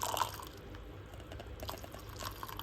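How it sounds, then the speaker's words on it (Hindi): Hot water pours into a cup of black coffee with lemon, a soft, uneven liquid trickle and splash that stays quiet and close, with no voices. "ये हम इसके अंदर डाल रहे हैं गर्म पानी।"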